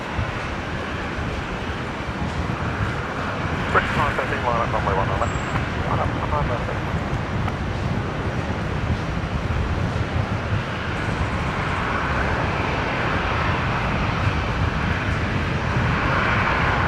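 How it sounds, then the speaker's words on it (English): An Alliance Embraer jet from Adelaide landing on runway 19 left at Brisbane produces a sustained engine roar across the whole stretch, with a voice briefly talking over it early on. "obviously operated by the Alliance Embraer, coming in from Adelaide here on 19 left"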